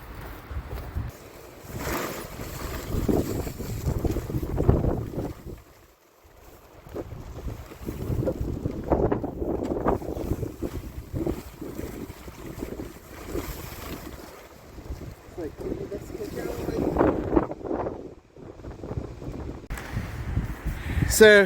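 Wind blusters across an outdoor microphone at a canyon campsite as a steady rumbling roar that rises and falls, with a person talking intermittently over it.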